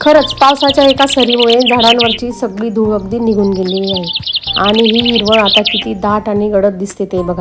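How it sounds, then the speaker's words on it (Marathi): Birds chirp outdoors among trees after a rain shower in a breeze, with high chirps and tweets running through the background beneath a woman's steady, close speech. "पक्ष्यांचा किलबिलाट आणि हा मंद मंद वारा"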